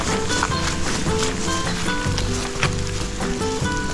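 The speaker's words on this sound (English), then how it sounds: "we just got caught in a big rainstorm" Heavy rain pours on a hiking trail of the Camino de Santiago between Palas de Rei and Melide, a dense, steady hiss of drops close by throughout.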